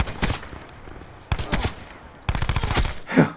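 Video game gunfire in a hardcore multiplayer match: three bursts of rapid shots, each close and loud, separated by short pauses, ending with a final sharper blast.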